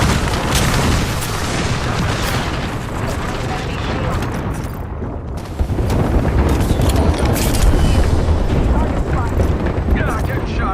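Gunfire in the video game Apex Legends, with dense booming bursts and rapid volleys in loud, busy game audio, rising to heavier firing in the second half, with voice-like sounds mixed in.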